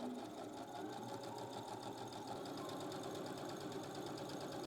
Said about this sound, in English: bringing this over to the machine to do a straight stitch all the way